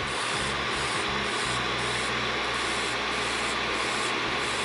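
A steady, even whirring grind of a small electric nail drill running continuously, fairly close, with a faint low hum underneath and no voices.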